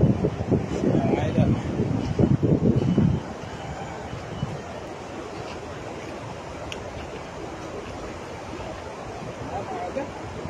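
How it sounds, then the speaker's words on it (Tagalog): Strong wind buffets a fishing boat at sea, roaring against the microphone with loud gusts for the first few seconds. It then eases into a steady, softer rush of wind and water, and someone speaks over it. "Oh, the wind is so strong. It's really windy."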